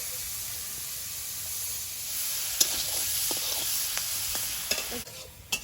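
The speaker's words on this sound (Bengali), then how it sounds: "কড়াইতে তেল দিয়ে দেবো চিংড়ি মাছটা ভেজে নেব" Prawns fry in oil in a wok with a soft, continuous sizzle, dotted with light clicks and scrapes of stirring throughout.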